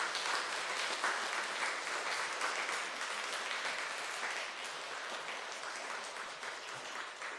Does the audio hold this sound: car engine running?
no